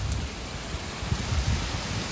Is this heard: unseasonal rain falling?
yes